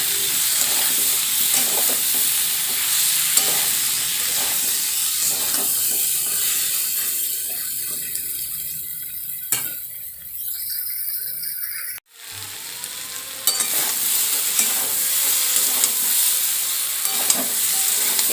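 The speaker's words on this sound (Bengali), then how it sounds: "খুব ভালোভাবে ভেজে নেব।" Young jackfruit and potatoes fry in a pan with a steady, loud sizzle and occasional stirring scrapes, continuous and close, with no talking.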